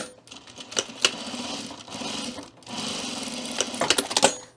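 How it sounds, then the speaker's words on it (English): A sewing machine stitching a straight quarter-inch seam across a fabric edge, bursts of rapid mechanical clatter broken by short pauses. "we're going to sew straight across this edge, 1/4 inch seam"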